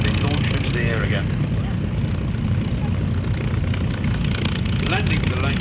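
Avro Lancaster four-engined propeller aircraft at an airshow, a loud, continuous droning roar that fills the whole stretch, with a voice talking over it.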